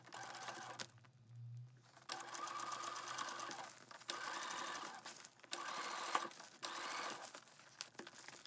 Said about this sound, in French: puis une surpiqûre machine en enfilant la lunchbox sur le bras de la machine